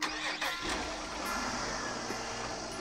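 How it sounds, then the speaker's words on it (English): A car engine runs as the car is driven back off the ramps after an oil change, a low, uneven rumble with a slight rise in revs, fairly close and moderately quiet, with no talking. "Now, we're going to get in and move the car."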